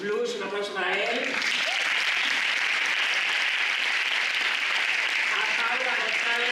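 Audience applause greets a speaker introduced at a youth mental health event, a brief voice at the start quickly swallowed by a steady, dense wash of clapping from a large crowd.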